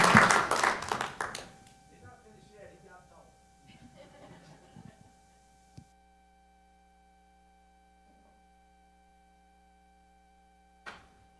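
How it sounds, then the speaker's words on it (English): A burst of applause from a crowd at a city council meeting at the start, fading out within two seconds, followed by quiet talking and near silence. "Let's give him a round of applause"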